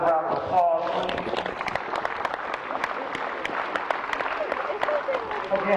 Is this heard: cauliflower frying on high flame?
no